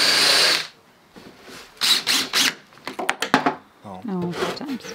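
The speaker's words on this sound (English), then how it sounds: "Garfield, I'm trying to drill." A power drill whirs in short bursts during van sofa and kitchen framing, a loud run at the start then several brief pulses, with talk in between.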